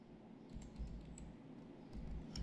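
Computer keyboard keys pressed in short bursts of quick clicks for menu shortcuts while editing document properties in a word processor, close and fairly faint over a steady room hum.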